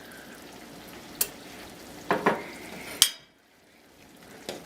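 Elbow macaroni stirred in a pot of boiling water for hamburger mac and cheese: a few sharp spoon clinks and scrapes over a soft bubbling hiss, then a near-silent pause and one last faint knock.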